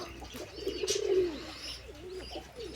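Wild pigeons cooing close by, a low soft coo rising and falling in the middle, with fainter calls after it over quiet background noise.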